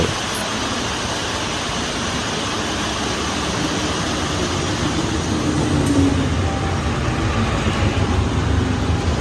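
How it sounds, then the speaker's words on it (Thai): Heavy rain roars steadily with a low rumble underneath, a train drawing nearer through the downpour at Taling Chan Junction, Thailand, the noise swelling slightly toward the end. "มีขบวนรถไฟ ลุยฝนมาอีกหนึ่งขบวนนะครับ"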